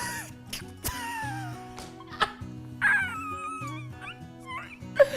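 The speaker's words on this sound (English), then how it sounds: "It's a dog. Oh, a dog. A cute dog." A cartoon dog in a children's English lesson on animals gives a series of whimpers, yips and short barks over a bouncy, repeating musical backing, with bright squeaky accents scattered throughout.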